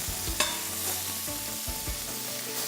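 Garlic, thyme and butter sizzle in a pan alongside steak, a soft steady frying hiss punctuated by a few utensil clinks and stirring knocks, close and without talk.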